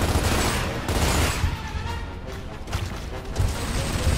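Enemy gunfire in the Gears of War video game: loud, sustained bursts of automatic fire overlapping with crashing impacts, dense and continuous throughout with no speech.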